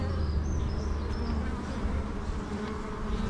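Honey bees buzzing at the entrance of a hive on a sunny morning, with many bees coming and going: a steady, dense drone, close and fairly loud, with individual bees whining past.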